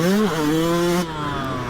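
A Yamaha YZ125X two-stroke dirt bike engine holds a steady high whine close by while being ridden, with its pitch dipping briefly and then settling at a slightly lower tone.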